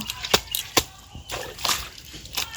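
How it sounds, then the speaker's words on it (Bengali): A child's clothes washed by hand in water, with irregular splashes and sloshing as the cloth is scrubbed and lifted, close and moderately loud, with several sharp splatters early on and no voices. "আমাকে এখন মিহিরের কাপড়টা ধুতে হবে"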